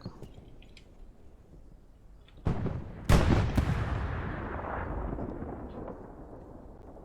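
A strafing run in a video game lands as a sharp blast followed by a heavier booming impact, then a long rumbling tail of explosions and debris that slowly fades, with no voices heard.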